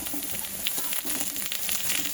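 Carrots and other vegetables for chowmein fry in a pan, giving a continuous gentle sizzle with light stirring and crackle close by.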